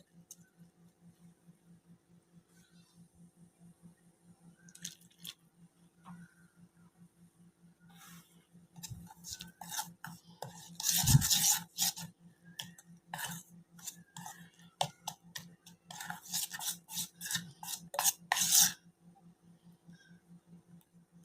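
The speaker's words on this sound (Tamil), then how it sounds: "கொஞ்சம் கொஞ்சமாக மிக்ஸ் பண்ணிக்கலாம் பால் ஊற்றி." A spoon stirs Oreo biscuit batter with milk in a bowl, giving soft scraping and clinking strokes in uneven bursts, quiet and close with no talk.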